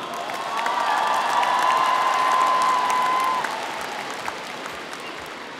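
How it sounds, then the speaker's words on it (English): Arena crowd at a pairs free skating competition in Chelyabinsk applauding and cheering, a broad steady roar of clapping and shouts that swells and then eases slightly toward the end. "All the Russian fans out to cheer on their Russian athletes."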